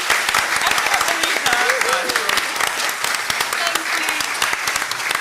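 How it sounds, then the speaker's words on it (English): An audience at a Scottish Wildlife Trust members' day breaks into sustained applause, a dense even patter of many hands clapping throughout, with a voice speaking faintly over it. "a round of applause"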